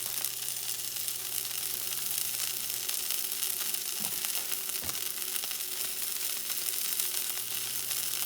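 Japanese wagyu steak sizzles in a hot pan, its fat crackling in a steady, close hiss with a couple of faint clinks of handling and no talking.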